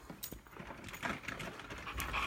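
Several puppies pant quickly and close up, with faint whimpers slipping in between the breaths.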